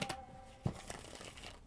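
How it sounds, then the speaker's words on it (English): Tarot cards being shuffled by hand, a few soft riffles and papery flicks at close range, quiet and brief with no talk over them. "Let me shuffle some more."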